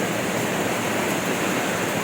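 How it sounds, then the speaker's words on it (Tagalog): Heavy rainwater pouring in through a hole in the roof of a flooded house. It makes a steady, dense rush of splashing water that continues unbroken throughout and is heard alone. "Ayun na, ang lakas ng tulo."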